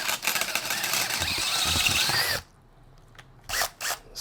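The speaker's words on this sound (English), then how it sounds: "you'll grab your number 9 drill bit and start drilling the outside" A power drill with a number 9 bit bores out a rivet on a Yoshimura RS-12 muffler for a Honda CRF Works Edition, whining steadily up close for about two seconds and then giving a couple of short bursts.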